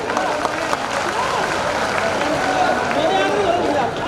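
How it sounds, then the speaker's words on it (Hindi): A women's crowd at a large political rally in Madhya Pradesh claps to welcome a guest: dense, steady applause mixed with crowd noise and voices, holding at an even level for about four seconds. "जरा बहनों आप जोरदार तालियां से स्वागत करें।"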